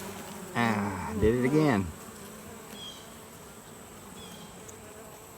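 Honey bees buzz in a steady low hum around an open Layens hive during a follow-up inspection, with someone briefly speaking near the start over the insects.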